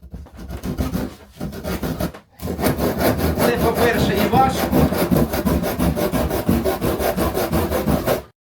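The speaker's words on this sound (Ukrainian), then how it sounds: "якщо я буду різати цією пилкою" A hand saw rasps through raw wood in fast, steady back-and-forth strokes, loud and close, tearing the wood, with someone talking briefly at the start before the sawing takes over.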